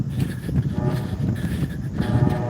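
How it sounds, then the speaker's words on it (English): A train rumbles past with a steady, heavy low roar that holds loud throughout, heard outdoors during a live run. "Oh, there goes that train."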